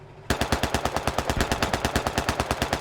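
Coaxial machine gun in a military video game fires a sustained, rapid and evenly spaced burst of loud, close shots that starts abruptly after a brief moment of low rumble, with no voices.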